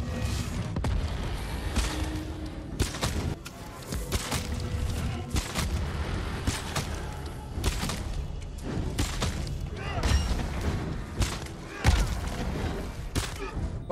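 Rapid bursts of gunfire in Ghost of Tsushima Legends crack out repeatedly in quick succession, punchy shots with booming low thumps and brief pauses between volleys.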